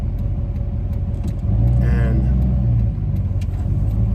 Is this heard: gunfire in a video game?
no